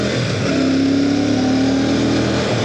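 A Royal Enfield Classic 650 motorcycle accelerates on a road test, its engine note rising steadily and loudly from a low rumble into a sustained drone with no talk over it.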